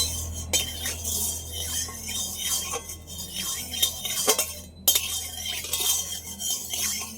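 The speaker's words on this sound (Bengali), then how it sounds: "তেলটা ভালো করে কড়ার গায়ে এইভাবে একটু লাগিয়ে দেবো" A metal spatula scrapes and taps around an oiled wok (kadai), with clinks and scraping strokes at irregular intervals and a soft low hum beneath, close by.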